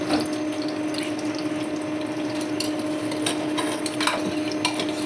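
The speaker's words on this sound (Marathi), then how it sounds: "आणि आता जिरा टाकलं" Cumin seeds dropped into hot oil for vada pav give a steady, close sizzle with scattered crackles and pops over a faint electrical hum.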